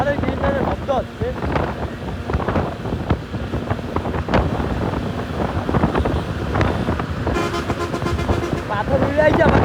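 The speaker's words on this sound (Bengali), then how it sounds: "সামনে ট্রাকের শব্দ শুনতেছেন" A truck rumbles past on the road near the Rupsha Bridge in Khulna, heard from a moving motorcycle, with heavy wind buffeting, traffic noise and a few horn toots throughout.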